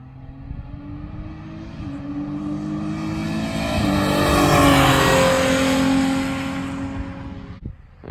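A race car engine drones steadily as it circles the Oulton Park track, swelling louder toward the middle then fading, with a continuous buzzing roar and no voices.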